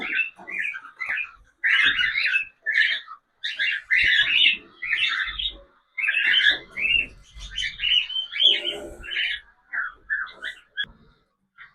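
Dense, busy chirping of cockatiels fills the whole stretch, many small birds calling over one another in quick bursts, close and fairly loud.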